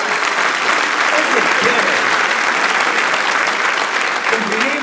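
Audience at a stand-up comedy show clapping, a dense, loud, sustained burst of applause filling the whole stretch without letup.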